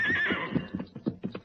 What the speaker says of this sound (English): Your horse named Silver